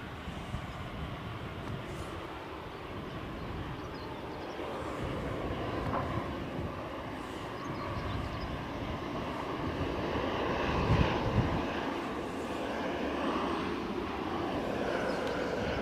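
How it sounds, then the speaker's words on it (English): EasyJet Airbus A320 arriving from Bristol at Edinburgh, its engine noise a moderate, distant wash of rumble and hiss that swells gently toward the middle and stays steady without voices. "EasyJet Airbus A320 from Bristol"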